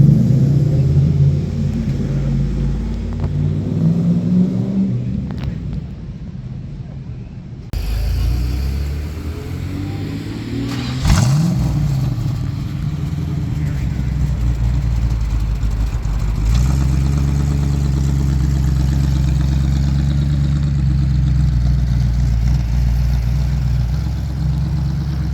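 Muscle cars pulling away in Kirkwood, Missouri rumble deep and loud, with low idling burble and revving surges as engines pass close by.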